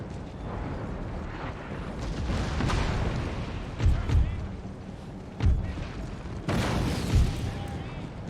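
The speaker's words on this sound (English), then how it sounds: "Wow, that one shot just took out a cannon." Cannon artillery fires during an Empire: Total War battle: several deep, thudding booms at irregular intervals over a constant rumble of battlefield noise.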